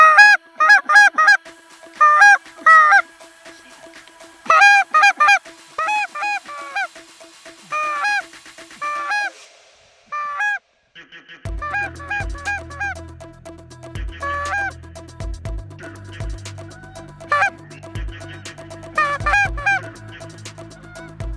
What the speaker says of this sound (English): finally, in the distance, we heard a goose calling